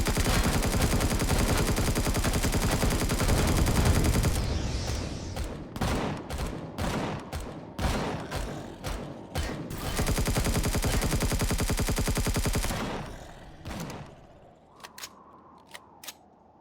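Gunfire in the Empyrion Galactic Survival video game, a long dense burst of rapid automatic fire, then a series of separate sharp shots, another sustained burst, and a few scattered faint shots as it dies down.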